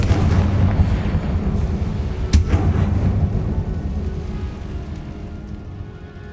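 A Confringo blasting spell explodes in the video game Hogwarts Legacy. One loud, heavy boom has a sharp crack in the middle, then a rumbling tail fades away.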